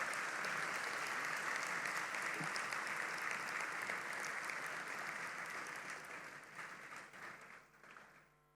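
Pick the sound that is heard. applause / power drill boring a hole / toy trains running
applause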